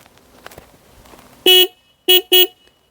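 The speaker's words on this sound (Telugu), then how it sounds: "హారన్ ఒకసారి వినిపిస్తాను మీకు." A Hero Karizma XMR 210 motorcycle horn sounds one longer blast followed by two short, sharp honks, loud and close after a moment of quiet handling noise.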